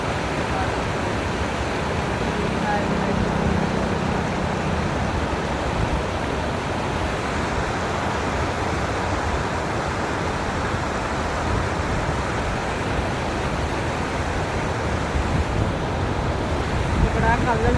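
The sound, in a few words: flowing water outdoors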